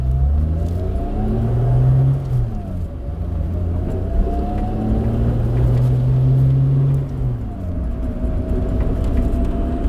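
A 230hp V6-swapped Mazda Miata engine pulling steadily while driving, rising and falling in pitch as it accelerates through gears, loud and close from inside the car with a constant low rumble.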